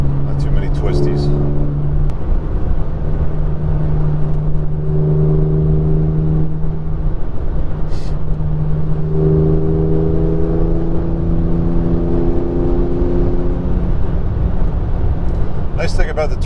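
A 2021 Porsche 911 Turbo S drives along straight, hilly roads, its engine a steady low drone with a few mild swells in revs, while people talk over it inside the cabin and occasional clicks sound.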